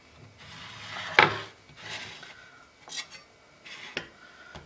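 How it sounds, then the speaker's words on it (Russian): A knife cuts through a medium-sized lemon on a board in a home kitchen: one crisp, loud chop followed by several softer slicing and scraping strokes, close up, with no voices. "Разрезаем лимон."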